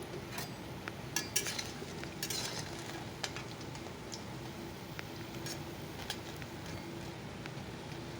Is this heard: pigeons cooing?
no